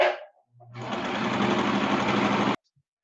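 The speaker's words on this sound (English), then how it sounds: "So you're going to hear some sewing." A sewing machine stitches fabric for a chiton in one continuous close, loud whirring burst of about two seconds, after a short spoken phrase, stopping abruptly into silence.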